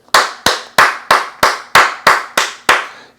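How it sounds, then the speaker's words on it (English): Nine sharp single hand claps in a steady even rhythm, close and loud, each ringing briefly with room reverb, with no voices. "I'm going to give a hand clap for that one right there."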